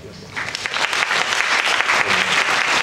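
Applause swells from a lecture audience welcoming a speaker, starting after a brief quiet moment and building into a loud, continuous wash of clapping that holds steady, with a voice faintly beneath it.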